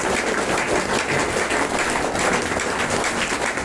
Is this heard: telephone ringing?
no